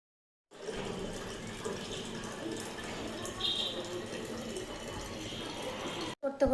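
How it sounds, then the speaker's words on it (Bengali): Water running from a tap into bottles at home, a steady hissing pour that continues for several seconds with a brief interruption near the end; faint background sounds accompany it. "একটু জলের বোতলগুলোতে জল ভরতে হবে"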